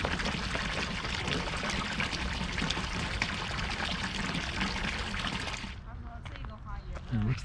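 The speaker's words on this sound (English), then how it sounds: "listening to that burbling water just below" Water burbling and trickling in a botanic garden, a steady close splashing flow that fades near the end, with a voice faintly present.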